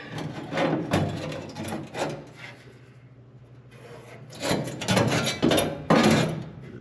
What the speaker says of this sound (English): So I'm just gonna start trimming this.